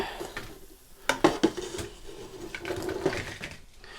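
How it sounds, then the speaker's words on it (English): Pizza rolls are scraped off a Granitestone Piezano pizza cooker with a pizza peel: a few close, sharp scrapes and clacks of the peel against the cooking stone, with short pauses between them and no voices. "We'll see if we can just get them off with a pizza peel."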